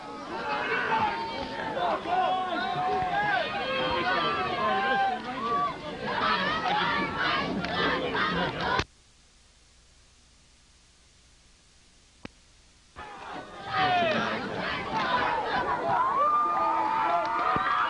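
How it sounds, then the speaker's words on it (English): A packed stadium crowd of Hastings Tigers and Pawling Jackets fans roars at a 2000 high school bowl game, a loud, dense wall of cheering and chatter that cuts out abruptly for several seconds before surging back. "And the crowd here is going absolutely wild."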